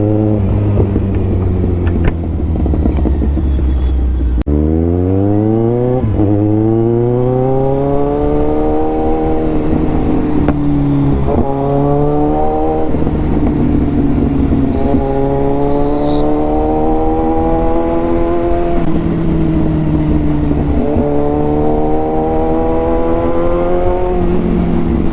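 A Kawasaki Ninja 1000 fitted with an Austin Racing full exhaust, ridden through city streets, revs hard and loud through repeated rising sweeps, climbing through gears with brief dips between pulls, close and alone with no talk.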